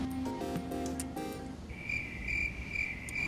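A comic inserted sound effect of crickets chirping: a steady high trill in short repeating bursts, faint and alone, after a brief fading musical tone.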